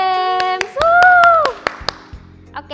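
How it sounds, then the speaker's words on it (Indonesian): A few loud, separate hand claps in a short burst at an online youth church service, mixed with a sung or sustained voice and a bright musical tone; the claps fall irregularly and fade out. "Tepuk tangan semuanya."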